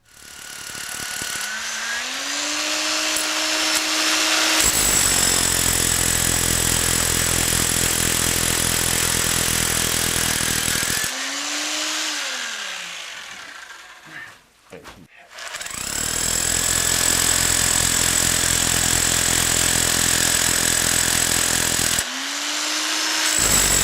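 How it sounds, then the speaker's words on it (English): A drill bores into a basement foundation wall of fieldstone and rubble during waterproofing work, running loud and steady in long bursts that stop and restart several times, with a steady tonal whine over the grinding. "When you're drilling into a wall, you might hit a solid area."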